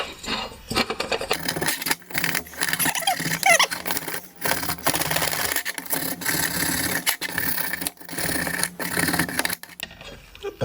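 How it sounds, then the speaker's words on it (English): Paint being scraped off the head of a Homelite lawn mower, a steady dry rasping and scratching that runs almost without pause, close and fairly loud, with short breaks between strokes. "Here's the head. Just a little bit of scraping."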